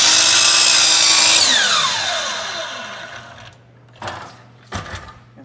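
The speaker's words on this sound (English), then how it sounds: "And I'll make the next cut." Power tool cutting wood for a joinery fixture, a loud close whine that winds down after the cut, followed by two short bursts of clatter.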